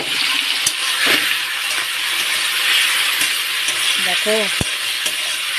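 Shrimp fry in a pan with green chillies, a loud, continuous sizzling hiss with a few stirring knocks, and a single spoken word briefly heard over it.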